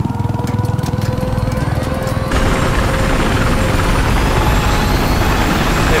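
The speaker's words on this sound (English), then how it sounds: "Oh hey, a chopper. I'm gonna go fly it." Steady, loud thudding of helicopter rotors with engine whine in the video game Battlefield 4, the pitch and intensity rising partway through as it spins up.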